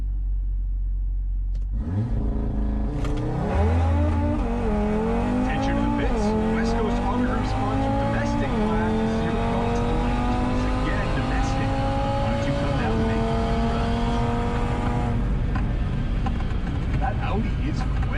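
Drag racing cars, an Audi RS3 and a red Camaro, tear down the strip at speed; engines roar and rise through repeated gear shifts, loud and sustained, with an announcer's voice over the track noise.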